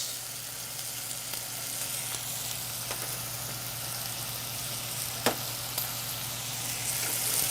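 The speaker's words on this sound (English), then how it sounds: "We're going to add our onions." Onions and carrots sizzle steadily in a hot pan as the base of a tomato sauce for pork ragu, a close, even hiss with a couple of light spoon taps.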